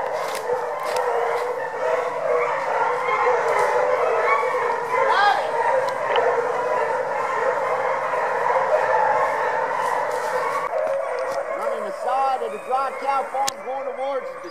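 Dogs bark and yip excitedly outdoors after one jumps a fox, layered with whimpering and a high howl, while a person talks over the commotion.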